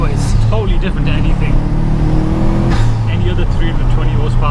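A 320-horsepower four-wheel-drive Subaru Impreza P1 accelerating, its engine droning loud and close from the cabin, with a rising rev and a gear change midway before the note settles again.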